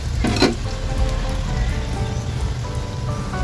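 Pork sizzling and crackling as it fries in its own rendered fat, a steady dense hiss with small pops, close and fairly loud with no voices.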